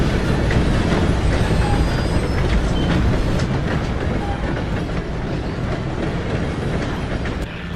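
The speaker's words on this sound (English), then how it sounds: "Gotta beat that train, Morgan!" A train thunders close by in Red Dead Redemption 2, loud continuous rumbling with rhythmic clickety-clack of wheels on rails and brief wheel squeal, no voices.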